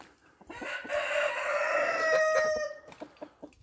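A rooster crows loudly and nearby, one long drawn-out call, with scattered clucks and scratchy farmyard noises before and after.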